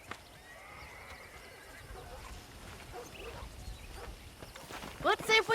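Quiet ambient murmur gives way to a loud horse whinny near the end, sharp and close, in the video game Red Dead Redemption.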